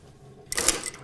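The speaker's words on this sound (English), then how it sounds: "I'm going to stitch them down as well." A sewing machine runs in one short burst, stitching down the prepared panel lines on a skirt toile, starting abruptly after a quiet moment and whirring steadily close by.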